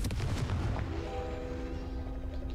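A Confringo blasting spell in Hogwarts Legacy detonates as a heavy, booming explosion, loud and close, with a rumbling decay and ringing tonal tail that lingers on its own with no talk.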